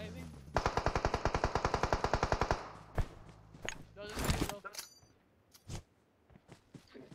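Rapid automatic gunfire from a BGMI squad battle in the mobile game, a fast even burst of shots followed by scattered single shots and thuds, loud and close, with a voice talking over it.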